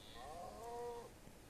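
Cows moo in the video game Minecraft: one drawn-out, wavering low call lasting about a second, moderately loud over a faint background, with no talking.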